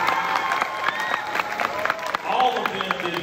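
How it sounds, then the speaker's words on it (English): A sixth-grade school audience gives a round of applause, steady crowd clapping at moderate distance with scattered claps and faint voices mixed in. "Let's give a special round of applause to these folks"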